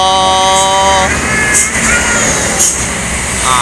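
A Sembodo bus passes along the road, its engine rumbling broadly with a brief hiss of air brakes, loud and close, while a tonal horn-like sound fades early.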